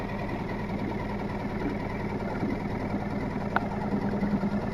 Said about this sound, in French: le moteur qui tourne.